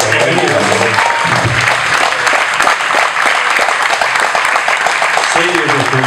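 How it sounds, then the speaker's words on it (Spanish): Loud, close applause from a theatre audience welcomes a rock journalist, a thick continuous clatter of hands with voices mixed in underneath throughout. "Un aplauso para él."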